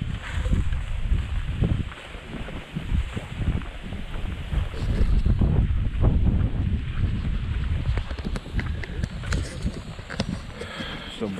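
Strong wind blows by a lake on a giant gourami hunting trip, a continuous loud gusty roar buffeting the microphone with deep low rumbling throughout.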